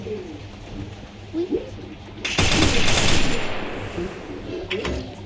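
Rapid automatic gunfire in a shooting video game, a sustained close burst of shots lasting a couple of seconds, with pigeon-like cooing before it and someone talking faintly.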